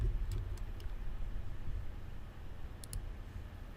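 Computer mouse clicks while working in an Excel spreadsheet: a few quick, faint clicks early on and a close pair near the end, over a low steady hum, no talking.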